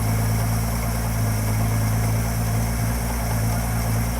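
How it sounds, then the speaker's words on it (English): A Ford 200 inline six-cylinder engine idles roughly and loudly up close, a steady low rumble with slightly uneven pulsing throughout. "idling a little rough initially, but we have a running 6-cylinder"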